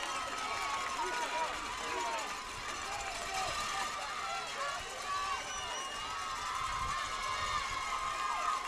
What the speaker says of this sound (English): Crowd comes alive.